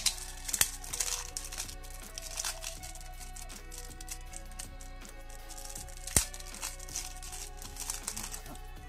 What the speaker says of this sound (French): On va s'ouvrir ça tout de suite.